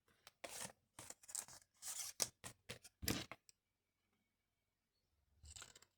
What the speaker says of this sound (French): vous faites une petite fente là, une petite fente là